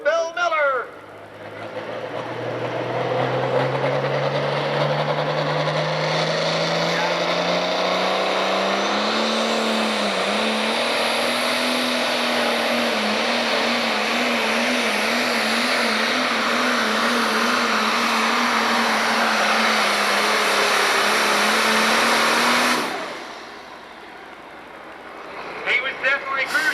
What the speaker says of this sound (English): He starts building the boost in the cruising mule, Bill Miller.